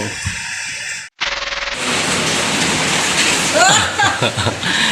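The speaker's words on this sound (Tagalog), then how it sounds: "Biglang bumagsak ang ulan kaya hindi tayo makauwi." Sudden heavy rain pours on a two-storey renovation site during electrical installation work, with a loud, dense, continuous roar after a brief break and faint voices underneath.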